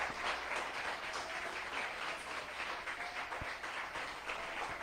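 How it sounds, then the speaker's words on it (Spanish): A church congregation applauds together, a steady, even patter of many hands clapping at moderate distance, sustained without a break and without voices. "Alguien que aplauda el nombre del Señor."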